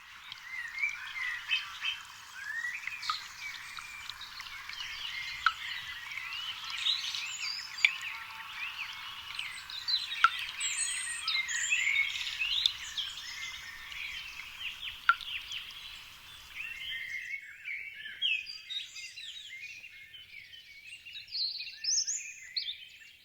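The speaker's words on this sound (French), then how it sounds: "Le printemps se profile avec le concert des oiseaux." A spring chorus of birds fills the open countryside with many overlapping chirps and trills, steady for about seventeen seconds before thinning to a few scattered calls, with no talking.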